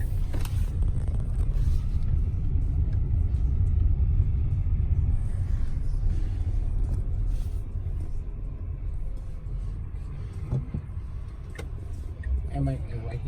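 Quiet 2019 Tesla Model X electric car interior while driving, a low steady road rumble and faint tyre noise with no engine sound, and a few small clicks near the end.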